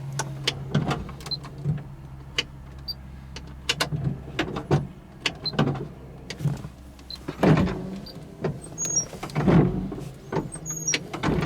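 A 1973 Dodge Challenger's heater fan blower runs as a steady low hum through the cabin, overlaid by repeated clicks, knocks and brief squeaks of switches and interior movement.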